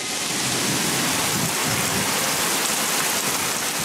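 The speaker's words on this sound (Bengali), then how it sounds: "ভাদ্রের শেষ দিনে মুষলধারে বর্ষণ।" Heavy monsoon downpour with thunder on the Bangladesh coast, a dense, steady roar of rain hammering surfaces with low rumbling thunder rolling underneath, loud and continuous with no voices.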